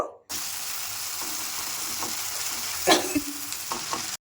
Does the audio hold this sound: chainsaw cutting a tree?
no